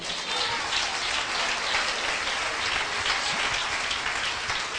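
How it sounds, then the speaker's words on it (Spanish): A church congregation applauds during a sermon. The steady, fairly faint wash of many hands clapping holds evenly for several seconds and sounds like soft rain. "denle un aplauso al Señor"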